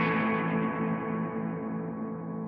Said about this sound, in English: we're going to hit the note and half a second later, the reverb will appear